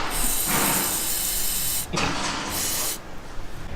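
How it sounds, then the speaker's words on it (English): WD-40 sprays from an aerosol can during a brake line job on a Nissan S14 Silvia, three close, loud hissing bursts separated by short pauses. "A bit more WD-40 to be sure."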